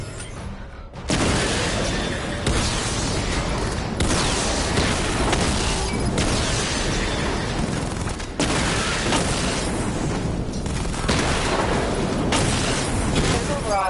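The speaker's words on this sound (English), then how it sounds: "Charge the missile barrage to level 2 to destroy up to 4 targets at once." Batmobile missile barrage in Batman: Arkham Knight, with repeated loud booming explosions and blasts rolling almost continuously under a voice giving instructions, the heaviest hits landing in clusters.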